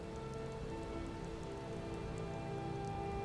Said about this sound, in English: Oh, hey, it's raining now.